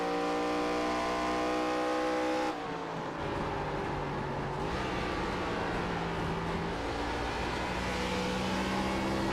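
A race car engine at World Wide Technology Raceway revs high and steady, then its pitch drops and shifts into a rougher, lower roar, loud and continuous throughout.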